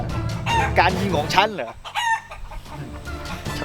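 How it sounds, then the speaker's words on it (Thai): Chickens cluck and crow loudly and close by in a short dramatic film scene, with someone talking over them. "ไก่มาจากไหนเนี่ย"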